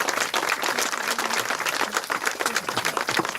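An audience at an inauguration ceremony applauds in a dense, sustained burst of many hands clapping, loud and continuous throughout.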